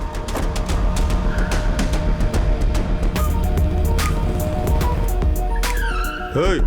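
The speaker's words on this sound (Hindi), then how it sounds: "गाड़ी को बेसमेंट की पार्किंग में डाल दे" A car driving into a basement parking garage, engine roar steady under talk, with a sharp rising tire squeal near the end.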